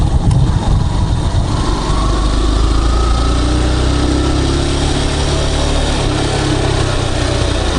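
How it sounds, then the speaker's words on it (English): Motorbike engine running steadily on an early morning ride, a continuous close droning rumble with a higher buzzing edge that holds without pause throughout. "And the bike seems to be running pretty good"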